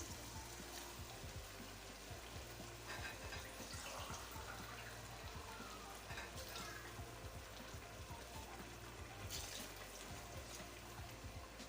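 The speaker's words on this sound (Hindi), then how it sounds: "3 गिलास के करीब मैं इसमें पानी डालूंगी।" Water poured into a cooking pot of keema and white lobia pulao, a steady low splashing and trickling stream running continuously and fairly faint throughout.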